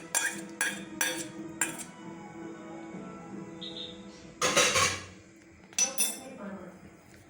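Eggless cake batter is mixed in a bowl with a spoon, giving repeated clinks and scrapes of utensil on the bowl in uneven bursts, close by, with someone talking at times.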